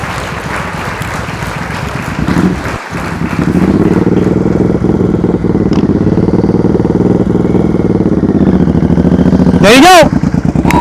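A motorcycle engine runs at low speed during slow-speed riding practice, a steady mid-pitched rumble that rises slightly, with a voice speaking over it.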